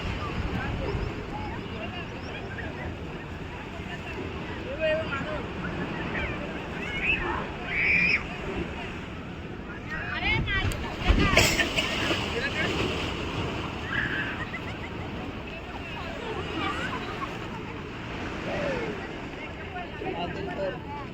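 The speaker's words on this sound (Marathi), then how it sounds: "हे समुद्रात दगड फटतात हे बघा हे कसे समुद्र दगड" Sea waves crash and wash against coastal rocks at Malvan around sunset, a continuous rushing surf with surging swells and wind buffeting the microphone, while a person talks over it.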